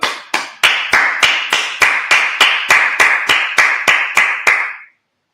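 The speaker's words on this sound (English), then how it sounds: "let's clap it up" A congregation at a Sabbath service claps about fifteen times in a steady, fairly quick rhythm, each clap sharp and close, stopping abruptly after about five seconds with no talking.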